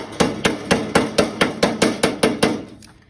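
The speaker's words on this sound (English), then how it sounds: "Hammer it to the line." A hammer strikes an aluminum gutter miter ten or so times in an even rhythm, each blow sharp, close and ringing briefly, tapering off at the end.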